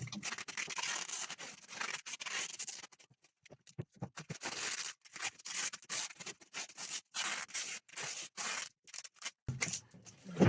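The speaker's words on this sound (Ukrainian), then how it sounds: "Вирізаємо дирочку." Scissors snip and scrape through a plastic film bag while a hole is cut in a homemade bee swarm trap, making close, crisp bursts of cutting and rustling with brief pauses between snips, no talk.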